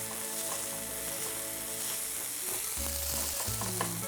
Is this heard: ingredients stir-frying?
yes